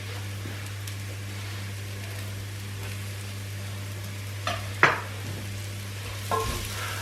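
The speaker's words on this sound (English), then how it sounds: "And then just continue to stir it." Onions and crushed garlic fry in a pan with a soft, steady sizzle under a low hum, while a utensil scrapes and stirs through them in a few brief, distinct strokes near the end.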